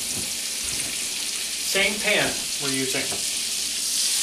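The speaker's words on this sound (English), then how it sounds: "Then take the other half of the stick of butter and add that to your pan here." Half a stick of butter sizzles steadily in a pan while cooking baked scallops, a soft constant frying hiss under a person talking.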